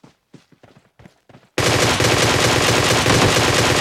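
Sustained automatic gunfire from a weapon in the mobile battle royale game PUBG Mobile bursts in loud and continuous after a few faint soft thuds, filling the rest of the moment as a dense rapid stream.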